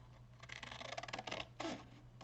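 Scissors snip through card stock close up, making a few faint, quick crisp cuts in a quiet room.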